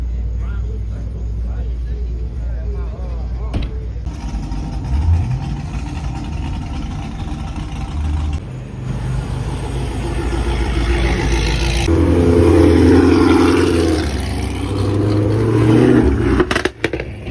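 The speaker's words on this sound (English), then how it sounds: "Got the Supra." A Toyota Supra engine at a car meet idles with a low rumble, then revs louder near the end. Crowd noise and people talking run throughout.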